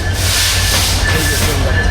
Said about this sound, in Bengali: এই সাইডে একটা ট্রেন আসছে প্রিয় বন্ধুরা